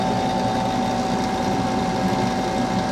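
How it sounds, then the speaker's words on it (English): A workshop exhaust fan runs on high with a steady, loud droning hum and a constant tonal whine, filling the room without a break. "What I'm doing is I'm cranking up my exhaust fan."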